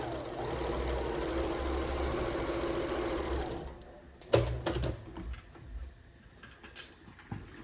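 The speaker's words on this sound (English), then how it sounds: "you'll hear me stitching now because I'm just going to go ahead and stitch this real quick." A sewing machine stitching a Christmas gift bag, a steady close mechanical whirr for about three and a half seconds, then stopping, followed by sharp clicks and handling knocks.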